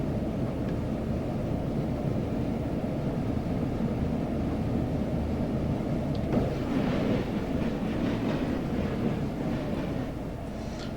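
A Class 421 slam-door electric train in Train Sim 2021 runs on the Gatwick to Brighton line, giving a steady, loud rumble and rolling drone throughout with slight swells in intensity and no talking.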